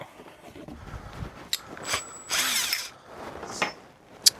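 An electric drill whirring in a few short bursts, the longest in the middle, close by, with clicks and knocks between runs, while wiring a guitar coil-splitting switch.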